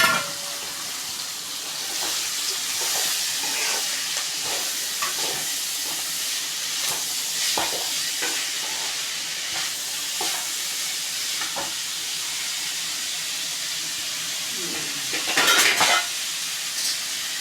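Cut radish sizzles in a hot pan while it is stirred, a steady frying hiss broken by scraping strokes and a few metallic knocks of the spoon against the pan, and no one speaks.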